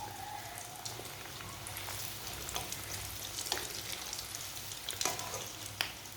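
Bread kebabs fry in very hot oil with a soft, continuous sizzle and scattered popping crackles, fairly faint and alone.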